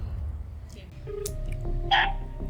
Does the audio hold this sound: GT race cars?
no